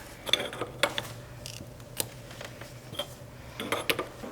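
A turbo hose clamp on a Nissan Hardbody being tightened, heard as a series of small metallic clicks and ratcheting ticks at irregular intervals, close and quiet, with no talking.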